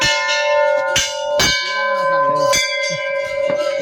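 Temple bells struck repeatedly at irregular intervals, each strike ringing out with a long metallic hum that overlaps the next, close by and fairly loud.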